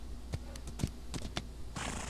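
Donkey hooves clop in the Old West video game Outlaws of the Old West, giving a few sharp, separate knocks at an uneven pace.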